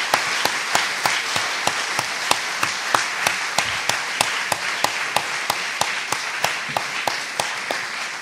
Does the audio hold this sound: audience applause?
yes